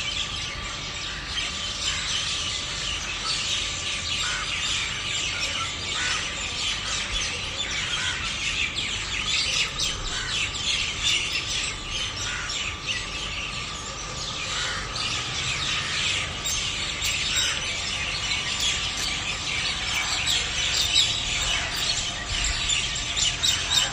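Many birds, including crows settling on tree branches, calling and chirping together outdoors at dawn, a busy chorus of tweets and occasional harsh squawks, steady and fairly close throughout.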